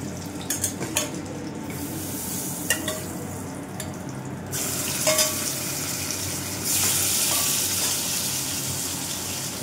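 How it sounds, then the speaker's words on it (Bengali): Fish pieces fry in a pan in a home kitchen: a continuous sizzle with clinks of a utensil against the pan early on, and the hiss growing louder and denser in two steps toward the end. "মাছ ভাজা তো প্রায় হয়ে এসেছে, আর 2 পিস আছে।"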